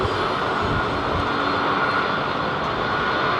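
MEA airliner departing London Heathrow, a continuous loud jet roar with broad rumbling noise, steady throughout and heard alone.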